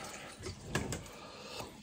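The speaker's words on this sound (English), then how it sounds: "Need some more water in it." Filtered water poured into a pot of week-old tea sitting on a stove, a faint, close trickle and splash with small gurgling bursts.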